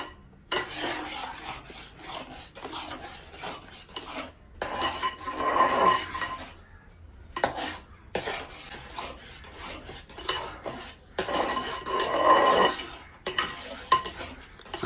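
Semolina kesari with mango being stirred in a heavy pan as it thickens, a steady scraping and rubbing of spoon against metal in repeated strokes, close and moderately loud, with brief pauses between bursts.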